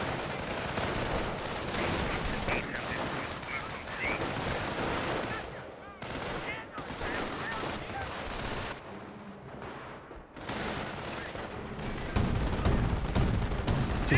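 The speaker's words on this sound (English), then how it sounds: "MG42 firing away." MG42 machine guns in Company of Heroes fire sustained, rapid bursts among other gunfire and explosions, loud and continuous with brief lulls, while someone commentates over the battle.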